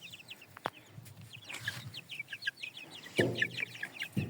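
One-month-old Lohmann, Hisex and Dominant breed chicks peep and chirp in quick repeated calls, with a couple of soft thumps and low clucks close by.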